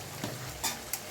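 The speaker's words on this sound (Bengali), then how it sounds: "নুন দিয়ে আবার নাড়া হচ্ছে।" Chicken being stirred in a frying pan after salt is added, with soft scraping strokes and a quiet sizzle, including two brief louder scrapes, no talking.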